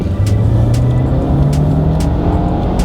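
A 2018 Mercedes-Benz GLC SUV with a 2-litre petrol engine accelerates hard in Sports Plus mode. The engine note climbs steadily and sounds loud and close from inside the cabin, with no talking over it.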